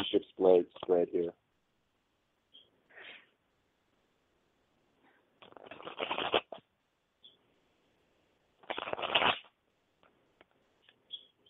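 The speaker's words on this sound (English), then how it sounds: "Let me shuffle." Tarot cards shuffled by hand for a relationship reading, heard as two separate, brisk papery riffling bursts of about a second each, with a brief voiced sound at the start and quiet gaps between.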